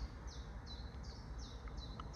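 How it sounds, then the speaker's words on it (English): Several birds sing outdoors in a quiet wooded spot with pine, short bright chirping phrases repeating every half second or so over a steady low background rumble, no voices. "all you can hear is the birds singing"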